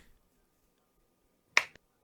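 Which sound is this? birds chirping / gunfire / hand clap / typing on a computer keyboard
hand clap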